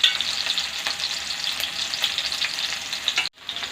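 Green chillies sizzle steadily in a hot pan for mushroom fried rice, a dense continuous frying hiss close by with no talk, cutting out abruptly near the end.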